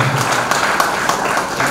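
An audience claps together at a Vedic honouring ceremony, a steady, dense wash of applause that holds evenly throughout, close and fairly loud.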